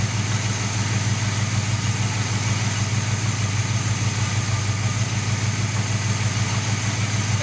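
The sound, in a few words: 1978 Chevy C-10 engine idling during carburetor tuning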